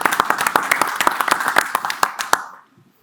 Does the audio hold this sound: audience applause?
yes